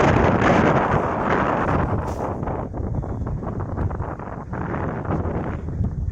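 Wind gusts across rice fields, blowing dry leaves with a loud, steady rushing roar and rustle buffeting the microphone.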